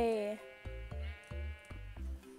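A pink sheep in the Minecraft video game gives a wavering bleat followed by a run of shorter, evenly spaced low bleats, close and fairly quiet, with a voice speaking alongside.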